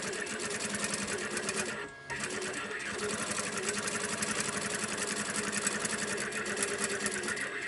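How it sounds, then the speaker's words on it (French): A sewing machine runs a safety seam on a zippered ballerina pouch with fabric bow, its rapid needle chatter continuous and close apart from a brief pause near the start, with a voice talking faintly underneath. "Et je viens passer une petite couture de sécurité."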